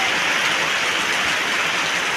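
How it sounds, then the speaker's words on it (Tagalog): Heavy rain pours down in a dense, steady roar of drops hitting the ground, loud and close, continuous throughout with no voices. "Lakas ng ulan."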